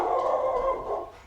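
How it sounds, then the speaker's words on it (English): A dog gives a single sustained howl-like bark, loud and close, that fades at the end, with no talk over it. "That's my dog, Jack."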